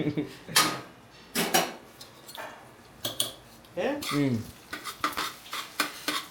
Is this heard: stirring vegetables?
yes